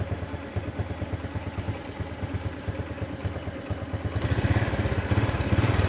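Honda Revo Absolute motorcycle engine idling with a steady fast putter, then rising slightly under a light blip of throttle near the end, close and moderately loud.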